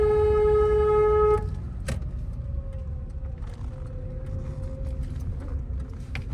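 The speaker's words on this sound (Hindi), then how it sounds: "लॉन्ग हॉर्न प्रेस करो" A car horn gives one long, steady honk lasting over a second in a narrow lane. It ends abruptly, leaving the engine's low hum and faint street sounds, with no talking.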